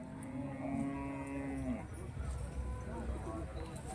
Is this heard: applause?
no